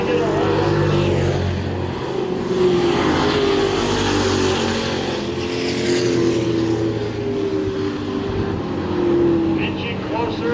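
Race cars, including the number 33 and number 99, roar past on a racetrack, their engines a continuous loud drone that rises and falls under a commentator's voice.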